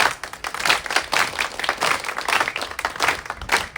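An audience claps continuously in dense, lively applause at a performance in a museum in Hopa, many hands blending into a steady, fairly loud patter.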